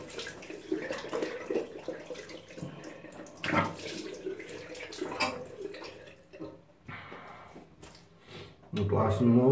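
A razor rinsed under a running tap during a shave, water splashing steadily with short bursts and knocks as the razor is moved, close by, with someone talking over parts of it.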